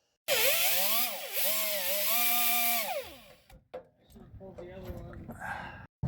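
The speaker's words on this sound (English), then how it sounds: "I'll go back over it with some power tools and try to get it as clean as possible" A power tool cleaning up an exhaust manifold stud on a car, a loud high-pitched whine whose pitch dips and rises for about three seconds before it spins down, followed by scattered scraping and clattering.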